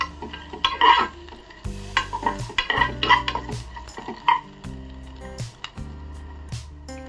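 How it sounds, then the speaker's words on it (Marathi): Green chillies, garlic and tamarind sautéed in a pan for neer chutney, with repeated clanking spoon scrapes against the metal over a light sizzle, strokes coming in uneven bursts close to the pan, no talk. "हिरव्या मिरच्या दोन आहे आणि चिंच त्याच्यामध्ये मी परतून घेणार आहे"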